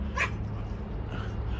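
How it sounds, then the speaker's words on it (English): A single short dog bark or yip rings out in a garden, moderately near, over a steady low background hum. "Any noises you hear behind could be dogs, because the dog's in the garden with me."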